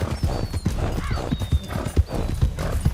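A horse galloping in the video game Red Dead Redemption, with rapid rhythmic hoofbeats, snorting and a brief whinny, close and loud, and faint game sound effects in the background.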